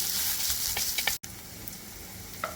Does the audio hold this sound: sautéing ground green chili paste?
yes